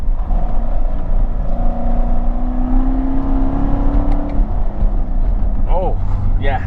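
A Corvette C7 revs after a downshift, the engine note climbing in a droning hum under constant road and cabin noise, with a brief voice near the end.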